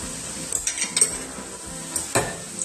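Carrot and coconut curry stirred and frying in a pan, a spoon scraping and clinking against the metal over a steady low sizzle, close up, with a sharper scrape near the end.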